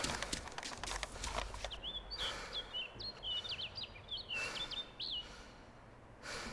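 Small birds chirp and tweet in quick, bright bursts inside the video game ArmA 2 DayZ, set over a quiet outdoor ambience with soft footstep-like thuds and low rustling.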